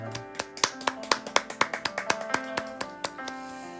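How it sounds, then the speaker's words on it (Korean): At the close of a church worship service, a few distinct claps ring out in a loose, uneven rhythm over sustained instrumental tones, sparse rather than a full crowd. "우리 하나님께 영광의 박수 올려드리겠습니다"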